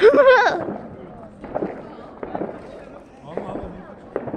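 New Year fireworks go off in several separate bangs and crackles spaced across a few seconds, fairly distant, with a voice talking over the first burst.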